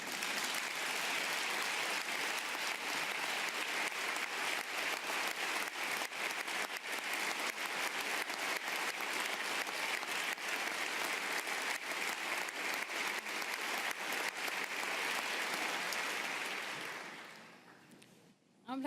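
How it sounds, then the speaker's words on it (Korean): An audience gives a standing ovation during a speech, with dense, loud, sustained clapping that runs for about seventeen seconds before quickly fading away. "이렇게 제가 말할 때마다 기립박수를 치시면 곧 피곤해지실 수 있어요."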